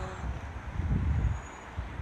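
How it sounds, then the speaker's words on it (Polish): Steady low rumbling wind buffeting a rooftop, a continuous roar with gusts rising and falling, no voices. "Jest spory wiatr"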